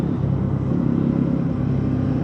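A 2025 Bajaj NS400Z motorcycle rides in sports mode, its engine a steady, close, low rumble that holds at one level with no clear revving, with no speech over it.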